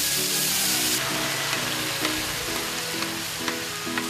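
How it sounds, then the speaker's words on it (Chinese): Diced firm tofu fries on a hot iron griddle with a loud, steady sizzle, while a metal spatula scrapes and turns it in regular strokes about every half second. "再经过铁板快炒"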